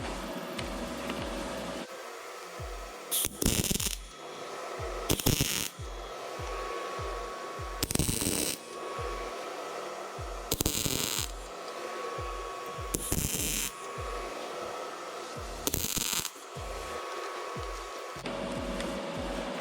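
A YesWelder MIG-205DS MIG welder tacks joints together in a series of short bursts, each a loud crackling hiss lasting about a second, spaced every two to three seconds over a steady background hum.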